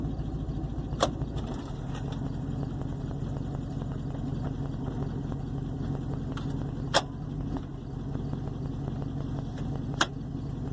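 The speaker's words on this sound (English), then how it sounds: "Should we listen to the engine?" A 1958 Plymouth's engine idles with a low, steady rumble throughout, punctuated by a few sharp clicks or ticks.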